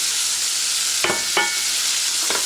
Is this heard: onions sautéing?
yes